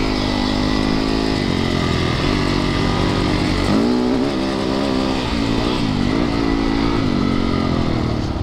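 A Christini all-wheel-drive 250cc big-wheel dirt bike engine revs and drones loudly up close on a muddy trail, its pitch rising and falling steadily with throttle throughout.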